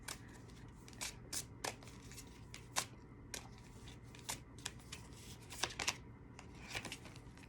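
Rapid riffling and soft snapping of tarot cards being shuffled, a steady stream of quick crisp clicks close by, with no talking.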